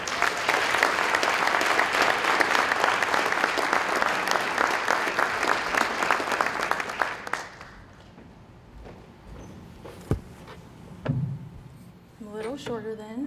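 Applause from an audience at a school district event honouring student Marty Miller, a dense clapping crowd lasting about seven seconds before fading into quiet room noise with a few stray claps.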